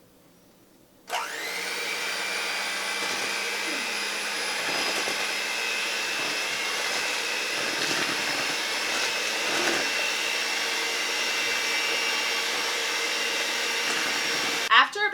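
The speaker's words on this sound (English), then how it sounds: "And remember, when doing an electric mixer, you put it down and then turn it on" An electric mixer whirs steadily on low speed through chocolate pudding mix, a constant close hum that switches on after a moment of quiet and holds until a short clatter at the end.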